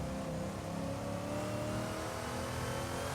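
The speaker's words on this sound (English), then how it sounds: "the straight cut gears on this thing sounds like a supercharger" A 1960s race car with straight-cut gears on track, engine droning loud and steady with a high gear whine running throughout, close by and continuous with no talk.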